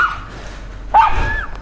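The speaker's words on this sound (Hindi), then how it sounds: "बाहर में गेट पे दोनों खड़ा होकर के भौंक रहा है" Two Spitz Pomeranian dogs bark at a cow from a gate outdoors; one sharp, close bark rises after a stretch of low background noise, with no voices.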